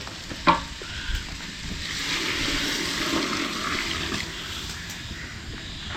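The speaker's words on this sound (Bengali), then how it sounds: "এখন পানি দিবে দাও দাও পানি দাও" Water poured into a cooking pot of mixed rice and lentils for khichuri at a night cooking party, a steady rushing pour with hissing and sizzling from the hot pot, with no voices.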